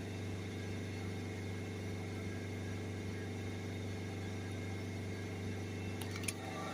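Volvo C30 1.6 HDi diesel engine with a blocked particle filter, revving under acceleration limited to about 3000 RPM; a steady, droning engine hum runs throughout with little change, close and continuous.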